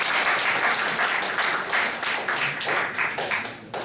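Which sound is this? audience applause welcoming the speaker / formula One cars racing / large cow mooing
audience applause welcoming the speaker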